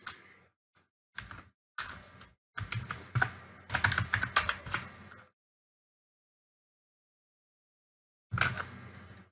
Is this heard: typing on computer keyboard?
yes